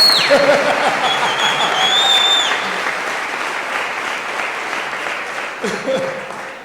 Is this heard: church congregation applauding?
yes